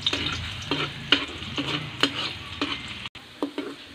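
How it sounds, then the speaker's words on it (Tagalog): Garlic frying in a pan until brown, a loud crackling sizzle with rhythmic spatula scrapes and taps, briefly cutting out near the end. "antayin natin siya guys na mag-brown bago natin hanguin"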